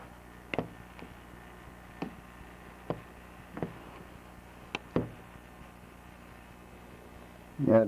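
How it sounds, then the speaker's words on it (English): Someone bumping against the glass pane of a door on a snowy day during a power outage, producing a series of isolated dull knocks spaced about a second apart in a quiet room. "That noise is me bumping against the glass in the door."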